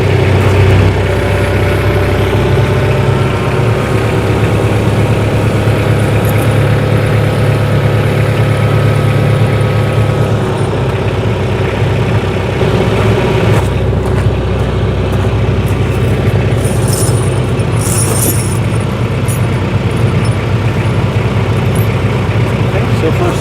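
A tractor engine runs steadily as the machine drives forward during winter tire chain installation, a loud continuous low rumble close by that holds throughout.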